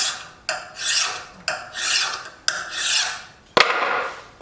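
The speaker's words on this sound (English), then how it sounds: "And as you can see, it will file that hardened steel" A hand file rasps across hardened O1 steel on a Bowie knife blade in long, steady strokes, four loud, even passes with a brief clank near the end, up close and without speech.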